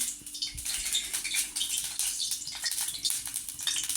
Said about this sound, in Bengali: কড়াই চাপিয়েছি আর একটু জল পড়ে গেছিলো ওই জন্য এত আওয়াজ হচ্ছে